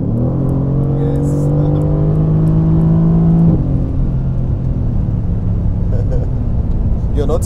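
A Mercedes-AMG GT C engine climbs smoothly in pitch under acceleration on a road trip, then eases off and settles into a lower steady drone while people talk inside the car.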